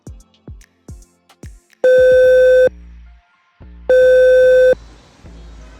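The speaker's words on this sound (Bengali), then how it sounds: "আমি এখনই ফোন দিতেছি" A phone rings back in two long electronic tones separated by a pause, preceded by a few quick clicks like keypad taps.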